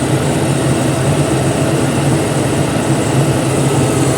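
A steady, loud mechanical drone with a low hum as the air conditioning blower kicks on and runs continuously in a 1997 Chevy C1500 pickup.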